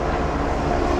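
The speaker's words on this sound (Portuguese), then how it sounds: "Olha esse helicóptero, hein?" Helicopter flying overhead: a loud, dense, continuous rotor and engine roar that fills the short moment evenly, with no speech over it.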